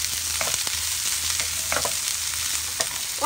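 Boiled mussels stir-frying in a hot pan make a loud, continuous sizzle, broken by repeated scraping and clattering strokes of a spatula close by.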